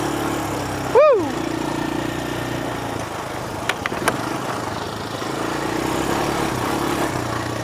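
An ATV engine runs at a low, even drone during a ride in Punta Leona, Costa Rica, with a brief loud whooping voice near the start and a couple of sharp clicks midway.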